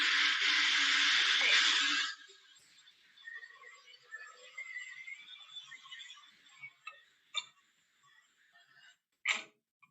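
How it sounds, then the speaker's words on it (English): A blender whirs loudly making a smoothie for about two seconds, then cuts off, leaving quieter clinks, rustles and a few sharp knocks. "So you can hear the smoothie being made."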